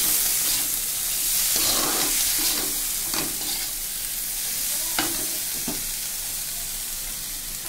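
Chickpeas and eggs frying together in a pan, a continuous sizzle broken by repeated scraping strokes of a stirring utensil, close up and moderately loud.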